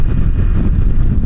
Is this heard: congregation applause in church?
no